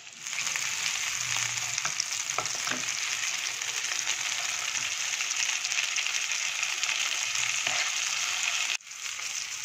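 Flour-coated chicken pieces fry in hot oil, giving a dense, steady sizzle with a bright crackle that holds unbroken at close range and then dips abruptly near the end.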